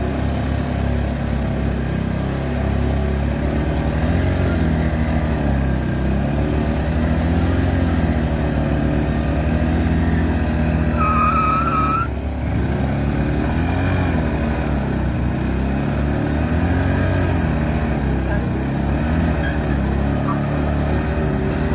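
A Honda Activa 4G and a TVS Aviator scooter rev hard against each other in a tug of war, two small engines droning loud and continuous at close range, pitch wavering as throttles shift.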